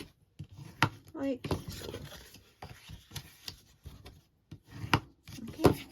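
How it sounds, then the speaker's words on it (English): Bone folder burnishing folded paper strips, short rubbing strokes in bursts with brief pauses, close up, with a voice speaking briefly. "Bring in my bone folder and just burnish those"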